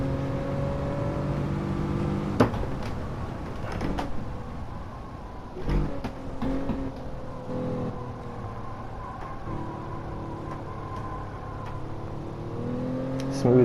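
Gran Turismo 7 car engine revving and accelerating, a steady harmonic drone that rises and drops with throttle blips and gear changes, loud and close throughout with a brief burst near the end.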